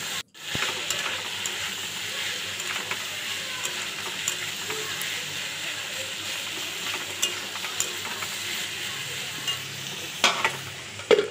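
Soybean pasta with chopped garlic and onion is stirred in a hot pan, a steady close sizzle broken by scraping spoon strokes and a few sharper clicks toward the end, with no talking.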